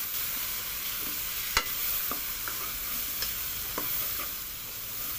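Spices being mixed in a pan for a chicken and bitter gourd mince dish, a continuous soft sizzle broken by several sharp utensil scrapes and clinks against the pan.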